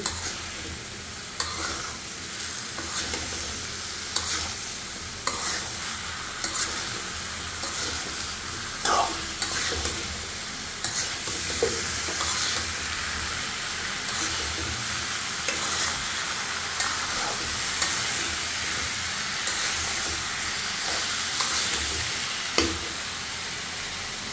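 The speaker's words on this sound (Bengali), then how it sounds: "বেগুনগুলো দিয়ে আমি তরকারিটা এখন নেড়ে দিচ্ছি।" A spoon stirs a tilapia and eggplant curry with fried spices in a pan, its repeated scraping strokes landing irregularly over a constant close sizzle, with no talking.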